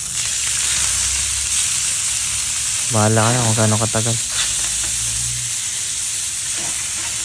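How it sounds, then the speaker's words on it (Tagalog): Steady sizzling of chicken frying in hot oil, constant and close, with a brief stretch of speech over it. "Ah, prito manok."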